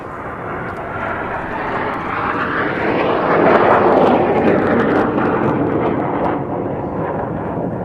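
Red Arrows jets fly past in tight formation at an air display, a loud rushing roar swelling toward a peak midway and then slowly fading as they pull away.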